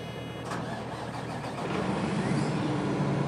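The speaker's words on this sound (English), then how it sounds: "engine is started" A tractor engine in Farming Simulator 2013 starts up, a short crank followed by a continuous mid-pitched running hum that grows slightly louder toward the end, with no talk.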